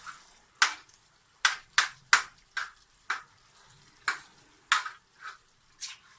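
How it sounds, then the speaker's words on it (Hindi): Eggs and minced meat being fried and stirred in a pan over a high flame, heard as about a dozen separate scraping stir strokes with bursts of sizzle, close and moderately loud, with no talking. "अब हम फ्लेम को हाई करेंगे और इनको बहुत अच्छी तरीके से कीमे के साथ भून लेंगे"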